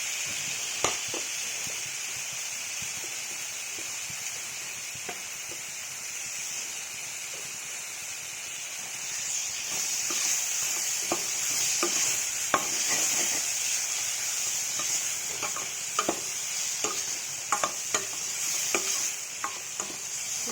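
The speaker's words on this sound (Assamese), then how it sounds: "এতিয়া মই কাটি লোৱা কেপচিকামখিনি দি দিছোঁ।" Chopped capsicum frying in a pan for a capsicum and peanut curry, a steady broad sizzle throughout with scattered light scraping and stirring clicks growing busier toward the end.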